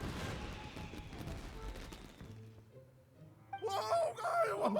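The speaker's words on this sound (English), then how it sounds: "Yoimiya, this is turning into a bit of a fireworks display." Fireworks explode in the Genshin Impact video game as a dense, crackling volley of bursts that fades away, followed by brighter tonal game effects near the end.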